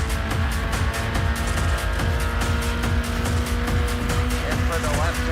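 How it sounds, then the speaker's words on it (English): A race car at high revs accelerates out of a fast turn and shifts from third into fourth gear, its engine droning loud and steady throughout while a voice talks over it. "Accelerating out of a turn. Third gear. Back in the fourth gear."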